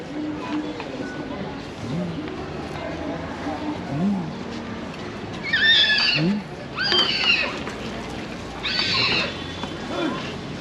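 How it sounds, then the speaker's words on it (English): Horses at Wright Park in Baguio whinnying several times in loud high-pitched bursts over steady outdoor background, with people talking nearby. "Look at the horses."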